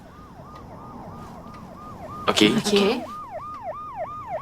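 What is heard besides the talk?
ambulance siren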